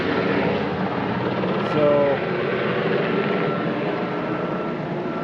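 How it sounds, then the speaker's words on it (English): An emergency helicopter flies overhead in Silverton, a steady loud rotor and engine drone that swells briefly and then holds, with a person speaking over it. "and unfortunately now the helicopter"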